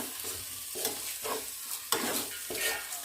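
Mutton keema with turmeric and chilli powder is stirred in a frying pan, with rhythmic scraping strokes roughly every half second over a steady close sizzle and no voices.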